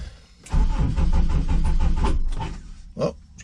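A Honda S2000 being started after a crank sensor replacement: a loud engine crank and catch up close, running steadily for about two seconds, then a brief quieter burst near the end.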